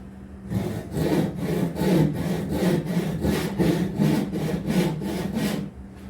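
A hand saw cuts through wood while a replacement gate is built, a steady back-and-forth rasp of about a dozen even strokes, close and loud, with no talking.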